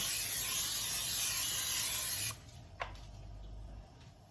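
Oil sprays onto a hot griddle, hissing steadily for about two seconds, then cuts off, leaving a quiet sizzle of a millet dosa with a small clink.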